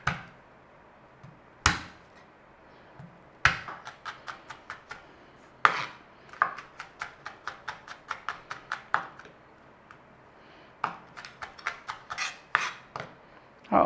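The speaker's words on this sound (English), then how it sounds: "We're going to give this a mince over. I'm just going to run a knife over." A knife mincing garlic on a chopping board, sharp close taps arriving in quick bursts of rapid rhythmic chops separated by short pauses, with no talk.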